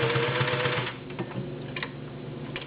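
Singer 603E all-metal gear-drive sewing machine with a size 16 needle stitching through ten layers of cotton: a rapid, rhythmic mechanical clatter up close that eases off midway into lighter, intermittent ticking.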